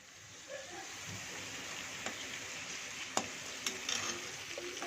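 Steady hissing sizzle of lemon juice poured into a hot kadai while making lemon rice, with a few faint clicks and taps over the continuous crackle.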